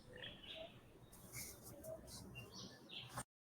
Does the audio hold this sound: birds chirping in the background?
yes